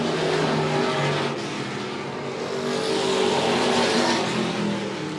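A dirt track race car on the final lap at Monett Motor Speedway roars loudly and steadily, its engine note rising and falling as it runs down the backstretch, with no other sounds over it.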